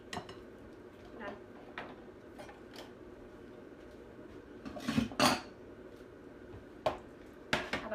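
A salad is tossed with a small spatula, giving scattered light clinks and scrapes of utensil against a bowl, with a louder cluster of clatter in the middle and more taps near the end.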